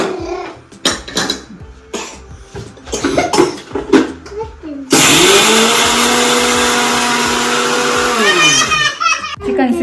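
A mixer grinder whirs loudly and steadily for about five seconds, dry-grinding dal chutney, then winds down, after a stretch of clattering and a few voices.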